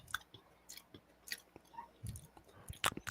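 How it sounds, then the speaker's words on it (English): Close, wet chewing of a greasy coconut peanut butter ball, irregular soft bites and squishy smacks over about three seconds, getting louder near the end. "nice chewing sounds"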